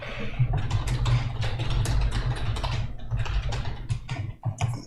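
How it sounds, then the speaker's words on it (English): Someone types on a computer keyboard, a fast, dense clatter of keystrokes that runs continuously under a low engine-like hum, with no speech. "still typing, I guess."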